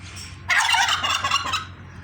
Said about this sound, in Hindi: आगे भी बर्ड ही हैं इसी तरह की, मुर्गियां हैं कुछ।